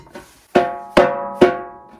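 A tightly tuned snare drum is struck three times in an even rhythm, each hit bright and ringing with a sharp attack and a short decay, close and loud, after a fainter tap.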